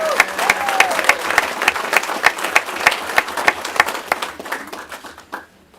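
Applause at a city ceremony for a 10U youth cheer team, sharp distinct hand claps in a fairly quick rhythm that thin out and stop near the end.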